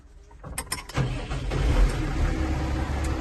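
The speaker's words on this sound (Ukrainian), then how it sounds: "Завели тракторець" A 2006 New Holland TS125 tractor engine cranks with a few sharp clicks, then catches and settles into a steady, loud low rumble that continues to the end.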